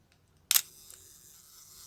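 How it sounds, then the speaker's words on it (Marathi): A camera shutter curtain fires once, giving a single crisp mechanical snap. A faint, quiet mechanical hiss trails after it, with no talking. "शटरच्या पडद्याची उघडझाप होईल असे सेल्फ टायमरसुद्धा काही कॅमेऱ्यात उपलब्ध आहेत"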